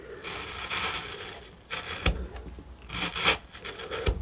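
A gouge carving into a basswood block makes close rasping, scraping strokes in several short bursts, with a couple of sharp taps between them.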